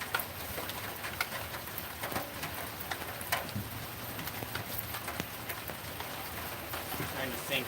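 Rain falls steadily outdoors near a bulldozer, a soft continuous patter with scattered sharp drips and taps throughout, no talking.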